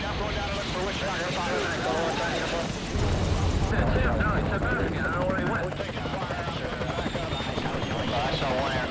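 Helicopters flying in a Vietnam War combat setting, a loud continuous rotor and engine roar that fills the whole stretch, with radio-style voices talking over it.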